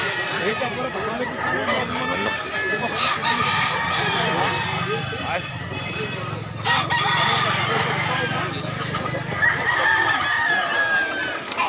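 A rooster crows clearly over a chorus of clucking chickens, with a crowd murmuring in the background the whole time.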